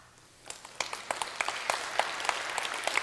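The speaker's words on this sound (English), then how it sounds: "We can still applaud." A church congregation claps, starting sparse and building into steady, fairly loud applause with crisp individual hand claps standing out throughout, no voices over it.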